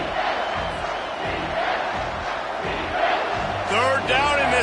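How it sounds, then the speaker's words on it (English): A packed college football stadium crowd roars loudly and continuously during a third-down play, with rhythmic pulses in the noise and a voice talking over it near the end. "Third down, and this crowd is tearing the lid off this place."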